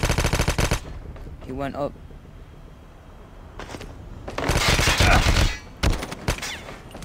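Rapid bursts of AK-117 assault rifle fire in a Call of Duty multiplayer match, loud and close, with pauses between volleys and a short spoken line over the shooting.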